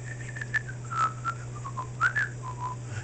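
A person whistles a run of short, bright, warbling notes, imitating a little whistle being blown. Close and clear over a low steady hum, with no talking.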